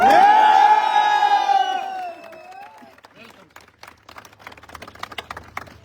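An indoor crowd at a network marketing event cheers, whoops and claps loudly for Rahul, celebrating an Audi car award, the roar fading into scattered claps under an announcer's voice.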